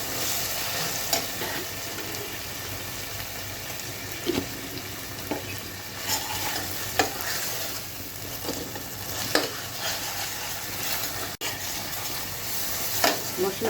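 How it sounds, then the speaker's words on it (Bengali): Spices frying in a pan for a meat dish, a steady close sizzle with intermittent scraping and stirring clicks, continuous and moderately loud, with no talking. "মশলাগুলো কিন্তু মোটামুটি ভাজা হয়ে গিয়েছে।"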